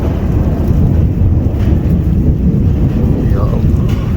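Thunder rumbles low and continuous over a heavy rainstorm in Jhelum city, with wind buffeting close by and steady rain noise throughout.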